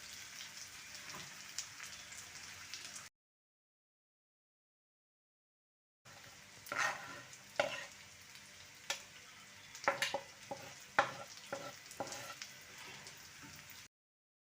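Green pepper and tomatoes with onions sizzle and fry in a pan, with a steady crackle, a pause of silence, then louder clattering stirring scrapes and bursts over the sizzle.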